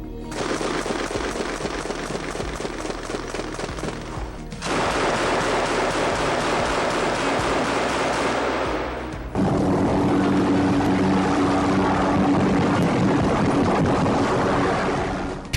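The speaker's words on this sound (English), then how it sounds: "apparently it is a low recoil 30mm cannon that can be mounted on a Little Bird" Heavy LR-30 30mm cannon from a Little Bird helicopter in Battlefield 6, a video game, firing in loud continuous rapid bursts of dense booming shots across three sustained stretches.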